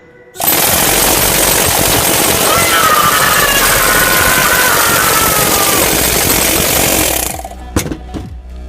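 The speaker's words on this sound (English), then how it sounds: "It's a combination of a spear and a jackhammer." A homemade pneumatic weapon combining a spear and a jackhammer runs at high air pressure, a loud, continuous rapid hammering roar that holds steady for about seven seconds before cutting off, followed by a couple of sharp clanks.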